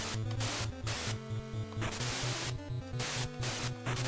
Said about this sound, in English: Why is that the sound of a sword?